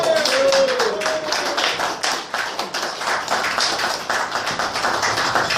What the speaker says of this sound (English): So give him a big warm round of applause.